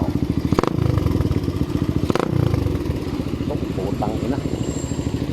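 Raider 150 carbureted motorcycle fitted with a Podium racing exhaust, idling with a crackly, pulsing putter and two sharp throttle blips, close and loud.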